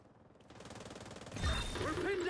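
Rapid, steady automatic turret fire rattles at the main gate during a Division 2 mission on Roosevelt Island, growing louder and joined by a heavier burst and whining tones toward the end.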